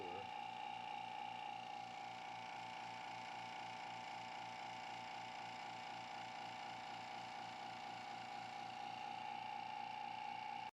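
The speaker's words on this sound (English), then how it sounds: "Turn on the pump." A vacuum pump runs steadily throughout while a baseball bat ring sits in a sealed chamber under vacuum, a constant mechanical hum with a strong steady tone and fine rhythmic pulsing, loud and unbroken.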